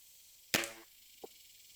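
A Weihrauch HW50S air rifle fires one sharp crack at a target from the bench, followed by a faint, small impact a moment later, with quiet background otherwise.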